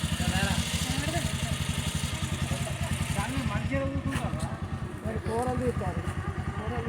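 Scooter engine idling nearby with a steady, throbbing mechanical pulse, continuous and fairly loud, with people talking over it throughout.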